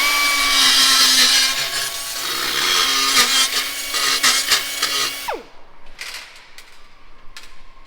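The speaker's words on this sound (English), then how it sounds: "if you run this on the blade while it's running, put a cut in the soap" A saw blade lubricated with soap cuts aluminum during work on a rear radiator for a 1969 twin-turbo Corvair. It makes a loud, gritty whine with rubbing scrapes, then stops abruptly, leaving faint taps and rattles.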